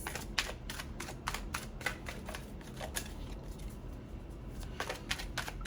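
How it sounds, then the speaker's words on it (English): Tarot cards being shuffled by hand, giving bursts of crisp riffling and flicking close by, repeated in quick clusters with a short lull before it resumes. "Let's get a handle on these cards"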